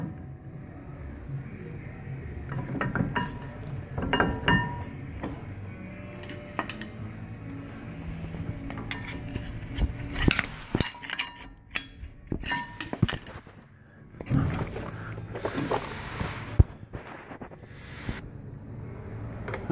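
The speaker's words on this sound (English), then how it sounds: "Get this brake pad off." Metal brake pad being worked free from the caliper of an International truck brake, with scattered clinks, scrapes and clunks of metal on metal, close by and moderately loud.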